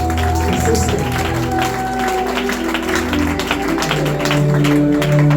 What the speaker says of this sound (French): Est-ce qu'on peut acclamer ce Christ? Est-ce qu'on peut faire des acclamations?